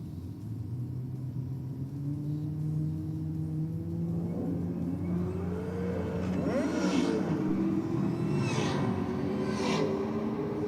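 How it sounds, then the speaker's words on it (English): Holden VL car doing a burnout at a race meeting, heard from a distance as a steady engine rumble under crowd-like ambient noise, with rising tonal whines and a few bursts of tyre squeal or revving toward the end. "I think the driving a little bit more confident in the burnout area of his run here at the moment"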